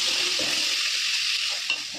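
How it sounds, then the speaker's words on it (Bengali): Shrimp seasoned with a little turmeric and salt frying in lightly heated oil, a steady close hiss of sizzling with occasional soft stirring knocks throughout. "চিংড়িটাও ভাজা হয়ে গেছে"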